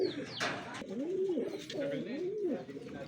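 A breeder pigeon coos close by in a loft, several soft rising-and-falling coos in a steady rhythm under faint background noise and some speech.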